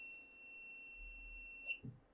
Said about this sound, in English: That beeping doesn't sound too good.